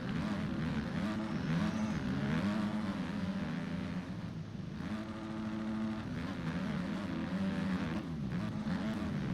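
Motocross bikes racing on the final lap of an open-class moto, loud revving engines rising and falling continuously as several machines pass close by, without a break in the roar.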